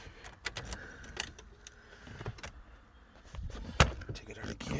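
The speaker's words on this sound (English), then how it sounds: "Put the key away again" Car keys from a 2000 VW Golf Mk3.5 Cabriolet jingle and clink in several short bursts as they are put away inside the car, with a sharp knock near the end and a person talking over them.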